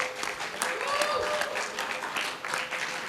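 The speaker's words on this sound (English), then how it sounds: "Can we give them a huge round of applause?" Audience applause at a business conclave, a steady wash of clapping held at an even level throughout, with a faint background tone and murmur of voices beneath it.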